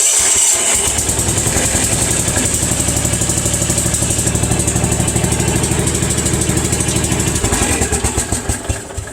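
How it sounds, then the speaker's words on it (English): A Kawasaki KF82D engine on a John Deere AMT 600 utility vehicle runs steadily and loudly up close with a fast, even pulsing beat, then eases off near the end. "this thing runs flawlessly now, fires right up."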